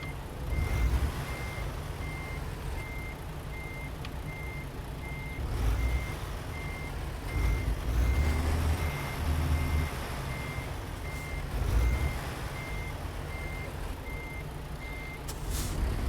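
A truck backing up in American Truck Simulator sounds a steady series of evenly spaced reversing beeps over a low diesel engine rumble, with occasional engine surges and an air-brake hiss near the end, and no talking.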